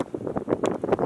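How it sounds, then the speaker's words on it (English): Gusty wind buffets the microphone outdoors at a tipi shelter build site, rough bursts of rumbling noise rising and falling over a second. "it is pretty windy from that direction"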